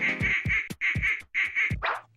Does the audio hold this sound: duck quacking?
yes